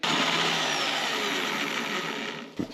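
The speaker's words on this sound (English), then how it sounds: "I'm spinning the drill up and then turning it off" A big powerful electric drill fitted with a wire brush runs at full speed on a farm, a loud continuous whirring grind that tapers off as the drill is switched off.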